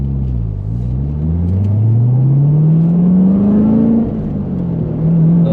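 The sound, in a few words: Chevrolet C7 Corvette Z06 engine accelerating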